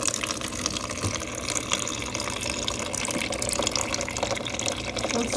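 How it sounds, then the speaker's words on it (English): Water fills a cup from a water cooler in a home, a steady hissing, bubbling flow that runs evenly and fairly close with no talking. "So we have a water cooler."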